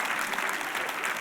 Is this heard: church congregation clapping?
yes